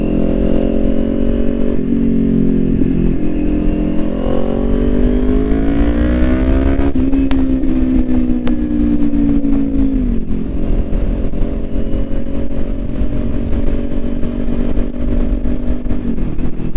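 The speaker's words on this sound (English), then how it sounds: "This little slip on, it does have some pops and stuff" A 2021 Kawasaki Ninja 400 with a slip-on exhaust drones loudly up close, revs climbing and falling through the gears, and a couple of sharp exhaust pops crack over the steady engine note.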